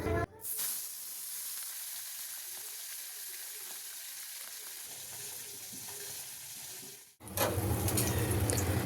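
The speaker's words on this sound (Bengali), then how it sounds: "এবার মাছটাকে ভেজে নেব।" Fish fries in hot oil in a wok with a steady, close sizzle and hiss that runs for several seconds, then bursts into a louder, more vigorous crackle near the end.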